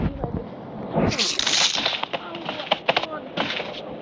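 A grenade in the game Melon Sandbox goes off in a sharp burst with a spray of crackling, popping debris, followed by scattered loud snaps and clicks.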